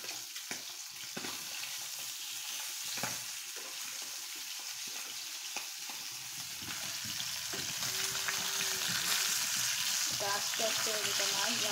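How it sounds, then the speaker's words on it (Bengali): Two pieces of rui fish sizzle steadily in hot oil in a pan, a continuous crackling fry that grows slightly louder over time, with faint stirring and clinks and no talk. "আস্তে আস্তে দুটো মাছ ভাজা হোক,"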